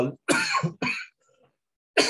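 Two harsh coughs close by, one right after the other, then a short silence and the start of another cough.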